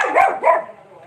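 A stray dog gives two short, close barks in quick succession, then a faint whimpering tail trails off into quiet.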